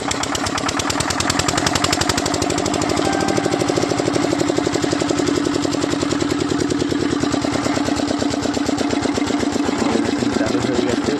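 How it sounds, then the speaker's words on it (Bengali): Generator engine on a soil testing machine in Kerala, running loud and close with a fast, steady chugging pulse that continues unbroken throughout, with no voices. "তো চালু করো জেনারেটর, আমাদের টেকোদা ভিডিওটা চালু করে দিচ্ছে জেনারেটরটা"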